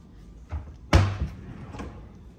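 A cutlery drawer in a villa kitchen slides open with one sharp clatter of metal utensils, preceded by a softer knock and followed by a faint rattle, close and fairly loud in a quiet room.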